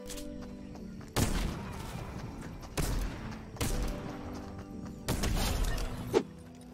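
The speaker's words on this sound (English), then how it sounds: "I hear somebody shooting" Fortnite gunfire in bursts, several loud rapid volleys of shots separated by brief pauses, close and sharp, with no talk over it.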